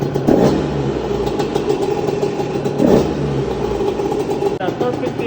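Small two-stroke engine with a freshly adjusted carburetor idle air screw, running steadily and loudly nearby with a buzzing drone and slight surges in pitch, heard alone without talk.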